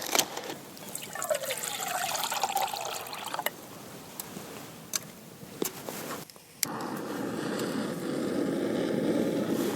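Water is poured out on an outdoor cycling camp stop in dry winter weather, a continuous splashing trickle at close range with a brief gap before a stronger, fuller pour at the end; no talk.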